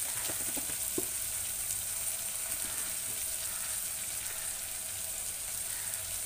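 Chopped tomatoes with turmeric fry in a pan for garlic dal khichdi, giving a steady, moderately quiet sizzle with a few faint clinks early on and no voices.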